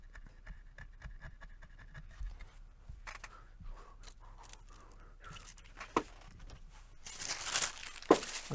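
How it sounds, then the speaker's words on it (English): Scissors snip and crinkle through a strip of carbon paper at a guitar-building bench, with soft rustling and scraping building to a few louder crisp cuts near the end. "I'm going to go ahead and just cut another strip of carbon paper."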